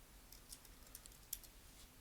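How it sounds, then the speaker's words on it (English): Quiet, rapid tapping on a computer keyboard while typing into a text box, scattered soft clicks with one slightly sharper keystroke, and no talk. "as we start typing the name, the list here will be filtered"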